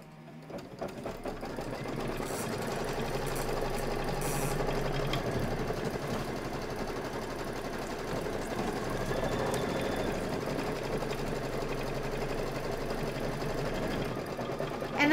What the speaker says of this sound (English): we're gonna do that satin stitch